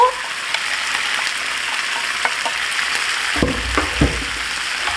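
Tomato sauce sizzling in a hot pan with seafood for spaghetti, a steady close crackle with small pops, louder bursts near the end as it spatters.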